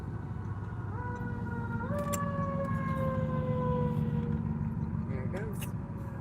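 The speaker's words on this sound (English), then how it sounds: "I don't see it, but I hear sirens." An emergency vehicle siren wails out of sight in road traffic, its rising and falling tones carrying steadily over a constant rumble of engines for several seconds, with people talking faintly underneath.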